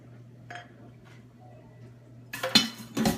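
A spatula mixes batter in a bowl in a home kitchen, starting quiet with a faint hum and small taps, then a few loud metallic clinks and scrapes toward the end.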